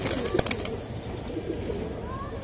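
Soft, steady pigeon cooing from a purple-necked silver Giribaz pigeon held close, a low continuous burble running through the whole stretch with faint background activity.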